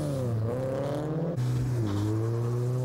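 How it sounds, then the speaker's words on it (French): Tuned cars roar hard down a 200-metre drag strip at a 2004 tuning meet in Bordeaux Mérignac, their engines loud and close as they rise in pitch through gear changes and climb again, with no talk. "les amateurs s'élancent sur la piste de 200 mètres en tentant de battre leur adversaire"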